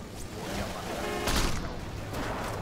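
Gunfire striking the player character in the open-world action game Crackdown, a dense rattle of shots and impacts with a sharper burst midway, steady and fairly loud throughout.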